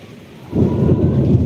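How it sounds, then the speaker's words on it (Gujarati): Thunder breaks during heavy rain in Gujarat: a quiet background gives way halfway through to a loud, deep rumbling roll that holds to the end. "અત્યારે હાલમાં કડાકાના ભડાકા થઈ રહ્યા છે તમને પણ અવાજ આવતો જ હશે"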